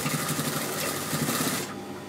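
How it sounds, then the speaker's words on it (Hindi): A sewing machine stitching the lining of a child's trousers, a fast continuous close-up whirring that cuts off abruptly near the end. "सो यहाँ हम थोड़ी सी खुली करके सिलाई करेंगे"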